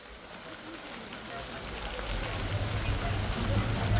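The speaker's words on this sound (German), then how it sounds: "Es hagelt!" Hail falls steadily in the open, high on a mountain trek in Bolivia's Sajama area, a dense broadband patter that grows louder over the span, with a low rumble underneath and no clear voices.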